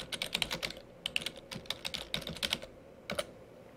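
Typing a search into a Chrome address bar on a computer keyboard: quick, close, light key clicks in bursts, with a short pause and a final few taps.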